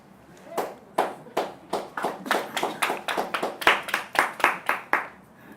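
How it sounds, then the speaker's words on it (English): Sparse, weak clapping from a small audience at a personal development talk: a handful of hands giving individual claps in an uneven rhythm, each distinct and close, with no voices. "This is a very weak clap."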